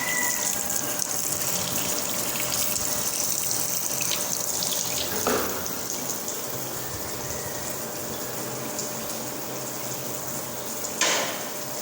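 Water runs steadily from a tap into a sink while a child washes hands, a close, continuous hiss and splash with a couple of brief louder splashes partway through.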